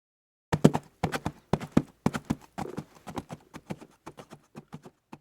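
Horse hooves clip-clop in a steady walking rhythm, crisp close knocks arriving in paired and grouped beats with no other sound.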